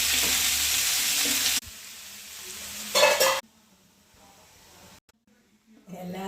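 Green gram sizzles and fries in a pan as it is stirred, loud at first, then quieter with a brief burst of scraping and hissing before near silence returns.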